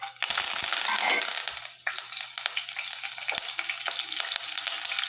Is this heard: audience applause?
no